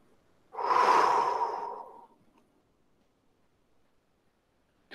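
One slow, audible in-breath, roughly a second and a half long, close and clear against silence, taken during a qigong self-massage exercise.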